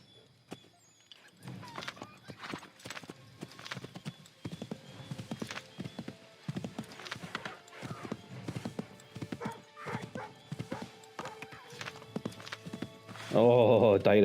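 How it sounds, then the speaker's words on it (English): Horse hooves clip-clop at a steady gallop during a ride in the Assassin's Creed III video game, rhythmic and fairly close, with a whinny and a louder burst of noise near the end. "Oh, directing this horse is not easy, by the way."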